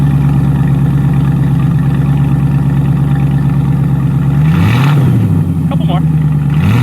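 A 1994 TVR Chimaera with a 4.6 engine idles loudly on a cold start, its steady close rumble broken by a short rev near the end.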